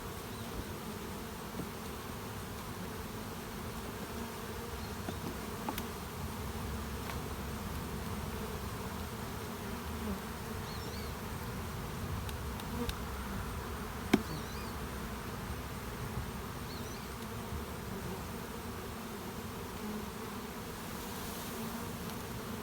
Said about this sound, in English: Shake the bees out,